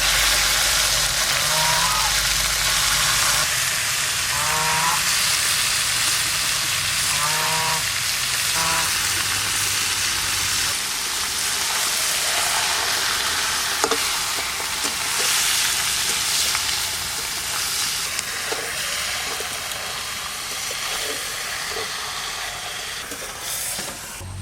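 Mutton pieces frying in oil tempered with bay leaf, dried red chilli, cumin and garam masala for a spicy curry, with a loud, dense, continuous sizzle close by and occasional stirring clinks, cooked outdoors in the rain.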